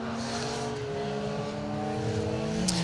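A Peugeot 205 rally car's engine drones steadily on a forest stage of the Colin Ellmore Memorial Rally, a continuous mid-distance roar with slight shifts in pitch and no break for its nearly three seconds.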